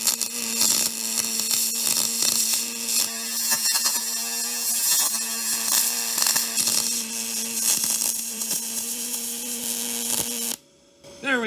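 Yeswelder MIG 205-DS fitted with a spool gun lays a bead after wire feed trouble and a burned-up tip, giving a loud, steady crackling buzz that runs for about ten seconds before cutting off abruptly.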